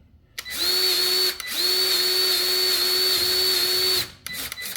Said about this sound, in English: what we do is we take our nice handy dandy grease gun